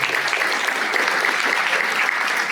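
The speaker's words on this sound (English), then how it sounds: "Let's give Brandy a round of applause" A crowd applauds steadily at a membership luncheon, a dense continuous clapping at even loudness from start to finish.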